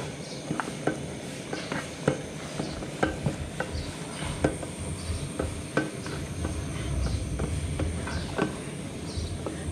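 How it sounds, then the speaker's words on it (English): Food stirred in a pan, a spoon tapping and scraping the metal in a steady, irregular rhythm over a soft frying sizzle, close, with no talking. "You have to stir it so that it can mix, you know."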